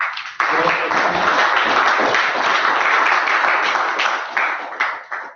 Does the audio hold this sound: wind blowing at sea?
no